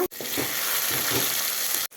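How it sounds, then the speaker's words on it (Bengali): Onions, potatoes and chopped tomatoes fry in a pan with a soft, even sizzle, close up and fairly quiet, with faint stirring scrapes and brief gaps at the start and end. "এখন এগুলো ভালো করে ভেজে নিব"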